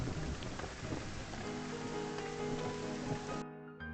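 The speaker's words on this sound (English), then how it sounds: "you could not have these sound effects like the rain, the music" Rain falls in the Blackout video game as a steady, fairly quiet rushing patter mixed with soft tonal music, running alone until it cuts off abruptly near the end.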